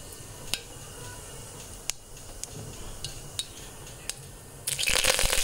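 Cumin and mustard seeds frying in two spoons of hot oil in a pressure cooker, with a soft sizzle, scattered sharp pops and utensil clicks, then a louder hiss surging near the end.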